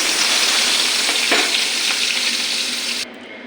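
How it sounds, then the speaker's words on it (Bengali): Stinging catfish (shing fish) sizzles loudly in hot oil in a kadai, a dense continuous frying hiss with a brief stir midway before the sound drops off abruptly. "কড়াইতে আমার তেল গরম হয়ে গেছে মাছটি কড়াইতে"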